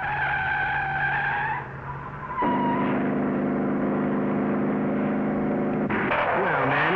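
A car in a street drag race squeals its tires, then accelerates hard with a loud, rising engine roar, followed by another burst of tire noise.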